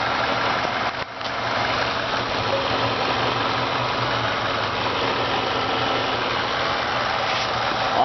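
A 2006 Saturn ION Coupe's Ecotec 2.2-liter four-cylinder engine idles steadily with a constant low hum and a brief dip near the start. No one speaks.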